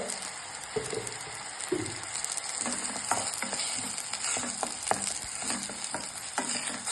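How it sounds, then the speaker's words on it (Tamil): Tomatoes sauté in a pan with turmeric and salt for a pepper chicken dish, giving a steady soft sizzle broken by scattered stirring scrapes and taps, close and moderately quiet. "தக்காளி நல்லா வதங்கணும்."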